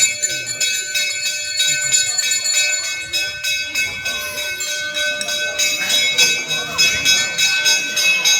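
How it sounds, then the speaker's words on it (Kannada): Many small bells tied up by devotees at a crowded temple jangle together in a dense, continuous metallic shimmer, with people talking and crowd murmur underneath. "ಎಲ್ಲರೂ ಗಂಟೆ ಕಟ್ಟಿದ್ದಾರೆ"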